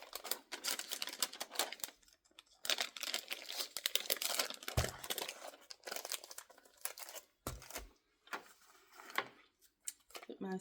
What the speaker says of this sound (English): I'm just gonna package these up